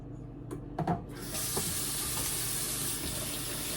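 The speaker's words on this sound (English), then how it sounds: "I usually just rinse them under hot water and scrub them." Hot tap water runs steadily into a sink while potatoes are rinsed and scrubbed clean for cooking, a continuous close hiss after a few brief knocks and clatters at the start.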